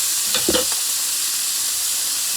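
A venison burger sizzles in a hot pan, a steady close frying hiss that runs through the whole short stretch, with a few brief louder spits near the start and no voices.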